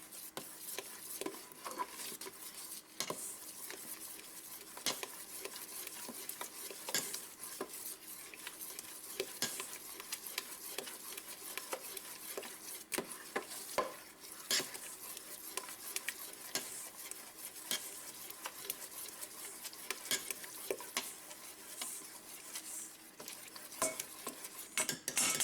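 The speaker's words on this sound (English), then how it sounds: "I've turned my fire off just so I can stir this in without it popping everywhere." Southern-style apple butter stirred in a pot with the heat turned off, a quiet ongoing scrape and scrape of a spoon through the thick mixture with faint clinks against the pot and a low background bubbling.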